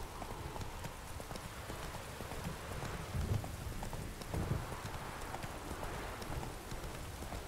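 Roach the horse trotting in The Witcher 3 video game, soft steady hoof clip-clops under a constant wash of rain, fairly faint and without speech.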